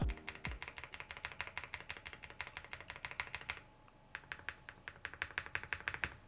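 Close keys on a VXE75 aluminium keyboard with Qinghai switches are pressed one after another in a steady rhythm, each giving a crisp clack, over about six seconds with no talking, testing the stabilizers.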